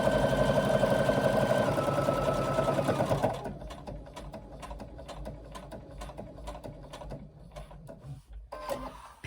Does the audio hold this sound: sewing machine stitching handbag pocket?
yes